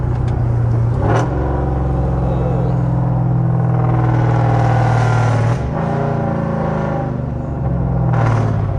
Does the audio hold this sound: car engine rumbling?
yes